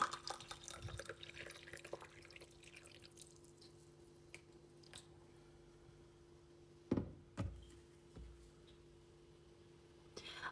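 Water handled during Chinese oolong tea preparation, with soft drips and a few small splashes and knocks, two sharper pours or splashes near the middle, close and quiet over a faint steady hum.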